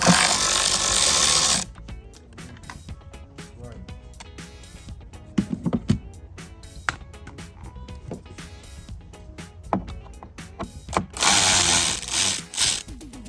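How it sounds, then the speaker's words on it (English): T25 Torx screws are being backed out of a Harley-Davidson speaker grill with a power driver, giving brief whirring runs at the start and end. Scattered close clicks and taps fill the quieter middle, and a voice talks at times. "So you're gonna remove the 4 factory screws that hold the grill in."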